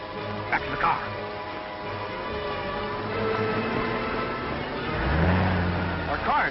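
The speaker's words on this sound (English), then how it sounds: "Our car's running wild." A car engine runs steadily, then climbs into a louder revving surge as it accelerates, with voices talking over the motor in an old film soundtrack.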